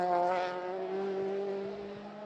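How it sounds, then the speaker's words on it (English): A turbo touring race car engine revs during WTCC qualifying in Thailand, a steady, faint sustained whine that holds its pitch before easing off slightly. "sounds like it's revving cleanly"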